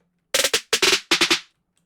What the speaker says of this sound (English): It's just a snare roll.